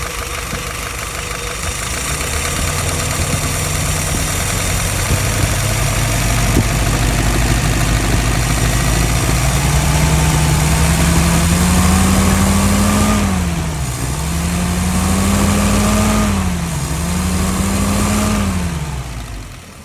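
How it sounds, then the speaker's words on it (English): A YS 950S engine in a vintage Jeep idles at about 700 RPM with a steady, loud, low rumble that holds even, then dips and recovers in a couple of brief RPM wobbles near the end; no voices. "Right now, idle RPM is at about 700."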